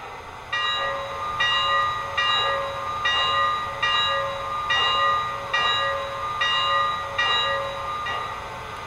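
Bell of a Lionel 2-8-8-4 EM-1 model steam locomotive, ringing in an even, steady rhythm of about a dozen clear metallic strokes, loud and alone with no voices.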